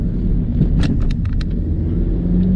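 Mini Cooper S John Cooper Works, 231 hp, driving with a steady low engine and exhaust drone inside the cabin, continuous rumble throughout with a few brief higher clicks or pops over it.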